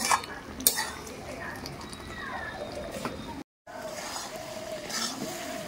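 A spoon stirs jaggery through hog plum pickle in a pan, producing soft scraping and clinks of utensil on metal over a faint low sizzle, with one brief pause midway.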